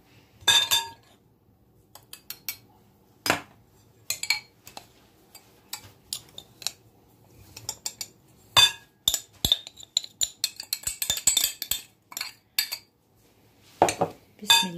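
A utensil mixes ingredients for briouat dough in a bowl, making close, irregular clinks and scrapes in short bursts that grow busier toward the middle before tapering off.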